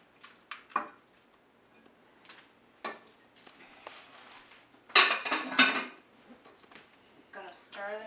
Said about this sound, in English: adding the meatballs